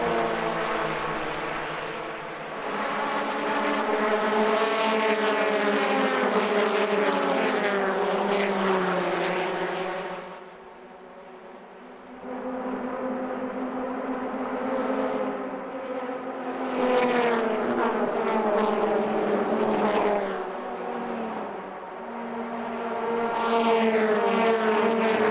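Racing truck engines roar along the main straight during a Trucks México Series race in Mexico City, loud sustained engine drones rising and falling as trucks pass, with a brief dip midway before more engines sweep by.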